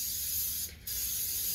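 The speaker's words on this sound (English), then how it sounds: "we're going to go ahead and spray our pan" Vegeline cooking spray sprayed onto a cast iron pan: a steady close hiss that cuts off briefly, then resumes.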